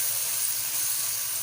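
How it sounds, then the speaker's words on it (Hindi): Spices frying in a pan for aloo paratha, a steady close hiss and sizzle holding evenly throughout with no talk. "2 से 3 मिनट इसको भून लेते हैं।"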